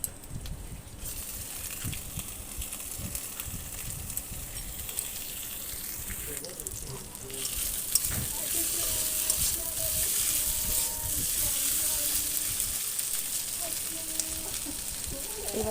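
Chopped tomatoes going into a pan of frying onions with ginger-garlic paste for a fish curry, the sizzle flaring louder midway as they hit the oil, with stirring scrapes and clicks throughout, close by.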